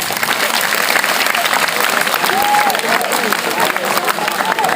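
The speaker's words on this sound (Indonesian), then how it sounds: "coba tepuk tangan." Students clapping their hands together during a school assembly, a loud, dense burst of applause filling the whole stretch, with scattered voices and a few shouts mixed in.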